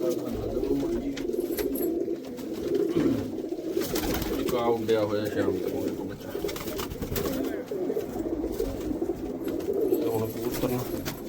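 Young pigeons bred from a large pigeon, kept by an enthusiast in America, coo continuously nearby while someone talks over the flock's steady murmur.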